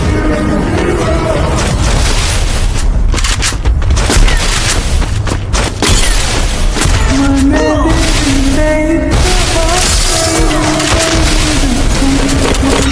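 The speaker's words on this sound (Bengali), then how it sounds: "স্নাইপার চালাইলো এই জায়গায়।" Repeated heavy gunfire booms crack through a loud, dense video game battle, with sniper rifle shots among sustained bursts and impacts, and voices talk over the action.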